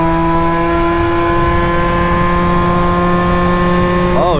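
A moped fitted with a Minarelli engine and a Phantom F12 upgear runs at a high, steady, buzzing pitch, loud and close, with the tone wavering right at the end.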